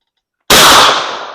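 A single loud 16 gauge DGS shotgun slug shot on an outdoor range: sudden blast after silence, then a long ringing decay.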